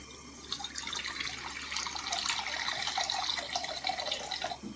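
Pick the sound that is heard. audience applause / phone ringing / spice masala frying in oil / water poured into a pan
water poured into a pan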